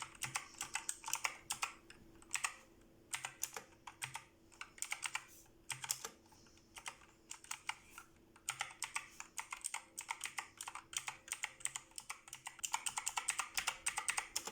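Cheap budget mechanical keyboard with blue switches being typed on, bursts of sharp clicky keystrokes in uneven runs, close and fairly quiet, with no one talking.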